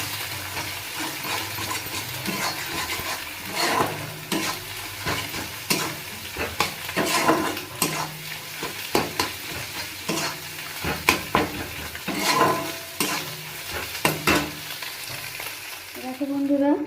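Egg tarka with salt and turmeric sizzles in a pan as a spatula mixes it, sharp scraping strokes coming in an uneven rhythm over a continuous close frying hiss, with no voices.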